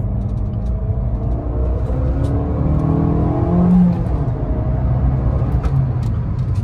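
An Abarth 595's engine revs up and accelerates close by, its pitch climbing over a steady rumble, with no voices.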